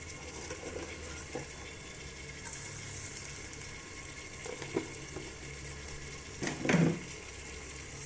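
Sugar heats in hot oil in a pan on a home stove, giving a soft, steady sizzle with an occasional clink of a utensil against the pan near the end.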